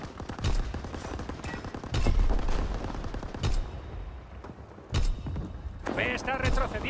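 Repeated bursts of video game gunfire crackle in sharp volleys, some loud and close, others farther off, with short gaps between them and game voice callouts heard over the shooting.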